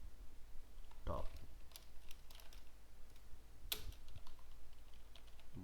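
Code being typed on a computer keyboard while building a Bootstrap web template, with a few sharp, scattered key taps and short bursts, faint and close, under quiet narration.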